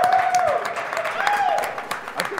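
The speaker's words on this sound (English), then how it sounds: "Clapping." Scattered audience clapping after a Ninja Gaiden 3 Any% speedrun, moderately loud and steady, with a rising and falling whistle-like voice tone over it.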